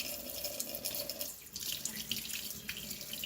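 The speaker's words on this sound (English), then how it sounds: "let's turn the hot water on" Hot water runs from a sink tap while homemade soap is being made, a steady close splashing stream that continues alone without talk.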